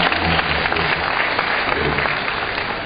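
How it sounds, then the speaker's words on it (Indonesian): A seminar audience on tax amnesty in Indonesia applauds, giving a dense, steady wash of clapping from many hands throughout. "Kita berikan aplaus"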